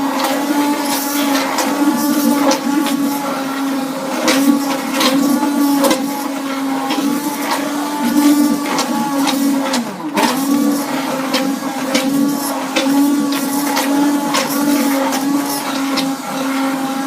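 A stick blender whirs steadily through hot process soap batter of dandelion-infused rice flour and shea, a continuous loud motor hum with slight pulsing, heard alone without talk.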